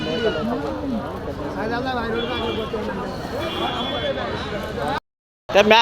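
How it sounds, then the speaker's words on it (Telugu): Large goats bleat repeatedly over a busy crowd of chattering voices at the Kadiri sheep and goat market, loud and close, before a brief silence and a last burst of sound. "పెద్ద సైజు మేక పొత్తులు"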